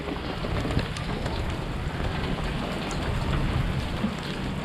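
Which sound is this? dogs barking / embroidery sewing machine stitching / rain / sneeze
rain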